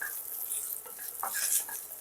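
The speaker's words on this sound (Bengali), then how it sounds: "এরপর কেটে রাখা নারকেলগুলোকে আমি ভেজে নেব" Chopped coconut frying in a pan makes a soft, faint sizzle with light stirring scrapes and a small clink, brief and close with no voices.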